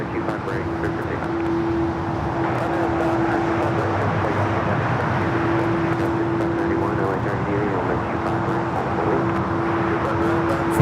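A plane takes off from runway 25 at LAX, a broad, continuous jet roar at moderate distance under a steady tonal whine, while a voice talks over it throughout.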